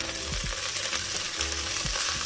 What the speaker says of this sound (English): we're just gonna add our leek to this. So as I said, we're gonna saute everything together.